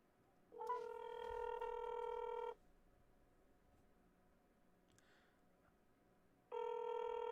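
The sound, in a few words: phone ringing on an outgoing call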